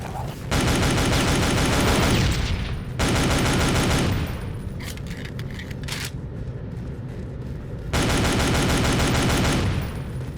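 Heavy, sustained automatic gunfire in a World War Zero (Iron Storm) video game, loud rapid bursts broken by short pauses, with dense layered reports filling the foreground.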